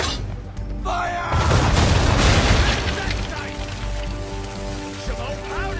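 Ship cannons fire in a naval battle in Assassin's Creed 3: a loud booming broadside erupts after a second, spreading into a rumbling, crackling roar that decays over several seconds amid shouted orders.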